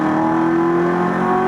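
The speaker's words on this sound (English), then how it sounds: "The upshifts sound aggressive" Corvette C7 Z06 with an 8-speed automatic pulls hard through an upshift, a loud, steady engine drone with rising harmonic tones filling the whole moment, close and unaccompanied by talk.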